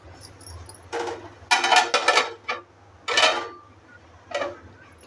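A lid is lifted off a pan of cooking mango sheera, giving several close clattering clinks of metal in quick bursts over a quiet kitchen background.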